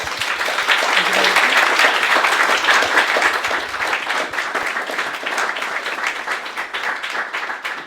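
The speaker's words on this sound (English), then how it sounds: "Massive round of applause for Rightmove, please." An audience at a careers fair breaks into sustained, loud applause, dense clapping that continues steadily and only slowly thins toward the end.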